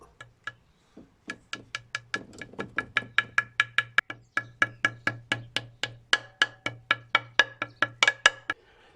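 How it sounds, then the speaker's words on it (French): Gentle hammer taps on a 1.6 VTi engine part during a timing kit reassembly. The taps are sharp, evenly spaced and close, several per second, building slightly in loudness over a low steady hum. "Je vais tapoter tout doucement avec un marteau."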